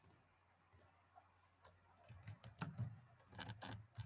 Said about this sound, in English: Just like if I type over here